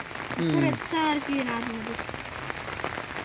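Rain falls in a steady patter, while a voice speaks briefly over it near the start.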